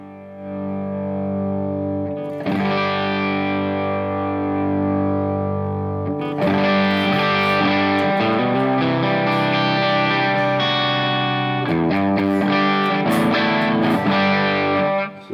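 Electric guitar through a Headrush Orange AD30 amp on channel 1 with gain at 100 and master low, giving a sustained, heavily distorted chordal tone that rings continuously, with fresh strums restarting it several times and no talking.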